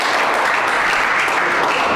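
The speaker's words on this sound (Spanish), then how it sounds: "esos aplausos son para usted" A church congregation applauding in a loud, dense burst of clapping that fills the space briefly, with a faint voice mixed in.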